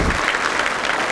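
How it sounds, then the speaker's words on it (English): An audience at a tribute event claps in a brief, dense burst of applause. "you're applauding our great troops, our soldiers, and their families."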